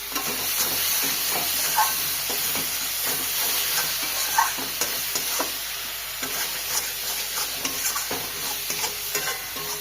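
Steady sizzling of spices for rohu fish curry frying in a hot pan, with scraping stirs and occasional sharp clinks of a spoon against metal.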